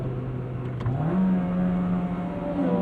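A 1998 Acura Integra Type R DC2, front-wheel drive, gets a quick throttle blip while double clutching; its engine note dips and then climbs into a steady, moderately loud drone up close.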